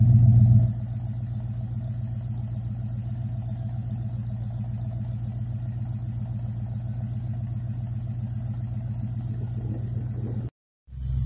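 A Ford Fairlane engine runs steadily out on the road, a continuous near, moderately loud drone with a low rumble that holds even. It cuts out abruptly for a moment near the end, then returns.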